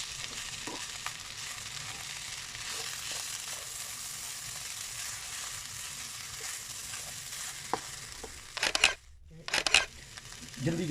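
Rice reheating in a non-stick kadhai, a continuous low sizzle with occasional scrapes and taps of stirring, then a few louder clatters near the end.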